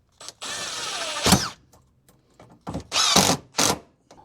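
A power drill drives wood screws through a hinge into a wooden bench, with several short, loud whirring bursts separated by pauses, close up and without talk.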